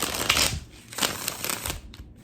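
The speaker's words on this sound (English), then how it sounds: "Beautiful shuffle." A brand-new Erenberg tarot card deck is shuffled by hand, in several quick, close riffling bursts with brief pauses between them and no talking.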